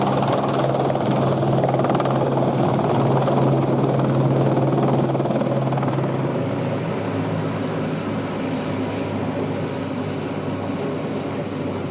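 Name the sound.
helicopter flying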